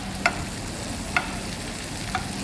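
White meat sautéing in hot, foaming butter in a pan gives a steady, close sizzle, broken by three faint clicks.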